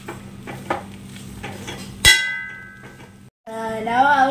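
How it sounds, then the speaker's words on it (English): Spoon scraping and clanking against a pan while stirring Kumbalanga (ash gourd) thoran, a few close metallic knocks and one sharp ringing clang, then quieter cooking sounds. "We have to stir it."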